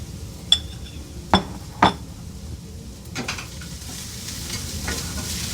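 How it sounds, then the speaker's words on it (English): Onions being stirred in a hot pan, with three sharp utensil clanks against the pan early on, then a soft sizzle and light scraping stirs, close and alone. "I'm going to go ahead and give that a stir, and then I'm going to put in the onions."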